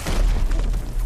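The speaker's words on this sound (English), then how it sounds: "It was a bomb!" A bomb blast from an Arcane episode: a loud, sustained low boom with rumbling thuds that fills the whole second, heavy and close.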